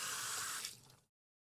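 Running water pouring into a bathroom sink during handwashing after a toilet flush, a steady close hiss that cuts off abruptly after about a second.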